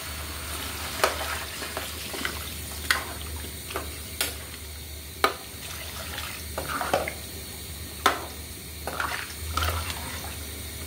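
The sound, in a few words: water added to stir-fried vegetables with prawns, sizzling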